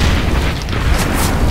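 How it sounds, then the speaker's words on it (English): A grenade goes off in the shooter game CS:GO, a loud, close, booming blast that fills the whole short moment with rumbling, broadband roar and no pause. "Grenade out."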